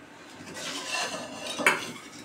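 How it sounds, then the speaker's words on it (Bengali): Peeled vegetables are set down in a metal pressure cooker with soft clinks and rattles of pot and utensils, including one sharper knock near the end, close and fairly quiet, with no voices. "আমি প্রেসার কুকারে দিয়ে দিলাম"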